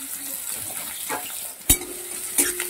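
Finely chopped onion is frying in oil for a rohu fish curry, with a soft sizzle, a few stirring scrapes and two sharp clinks of a utensil against the pan, close by with no talk.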